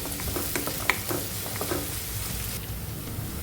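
Thinly sliced onion, green chilies and curry leaves fry in oil with a soft, steady sizzle and light crackles, a few faint stirring taps in the first second or two.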